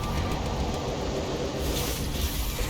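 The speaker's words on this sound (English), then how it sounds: "A train is approaching through a tunnel in the northwest." A train rumbles through a tunnel in the StarCraft II video game, a loud, steady low-pitched rolling roar that continues for the whole moment with no talk over it.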